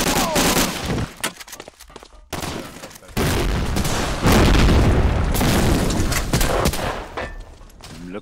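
A grenade blowing up during an online match of the World War II shooter Medal of Honor: Allied Assault, a loud close boom amid bursts of gunfire and abrupt cuts, with voices talking over the action.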